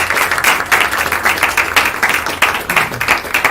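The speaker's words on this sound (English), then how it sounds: "Please give them one more round of applause." An audience at a live Thursday bhajan gathering gives a round of applause, loud and close, with dense clapping that pulses slightly in intensity throughout.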